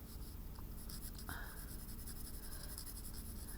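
Soft, faint scratching of white charcoal drawing a light highlight on toned paper, a short stroke or two with a quiet, steady hiss beneath.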